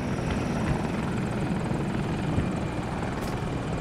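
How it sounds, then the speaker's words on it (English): Helicopter flying overhead during a squad round of a multiplayer shooter on the Hourglass map: a loud, continuous rotor thrum with a deep, rumbling drone that stays steady and close throughout. "I got a chopper."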